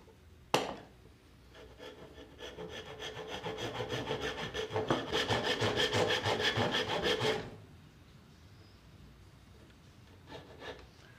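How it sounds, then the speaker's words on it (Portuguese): A hand saw cuts the corners of a wooden piece at 45 degrees during wood carving, with a sharp knock at the start, then steady back-and-forth rasping strokes that build louder for several seconds before stopping, followed by faint taps. "Você também pode iniciar apenas com o serrote, nas duas quinas, sentido 45 graus"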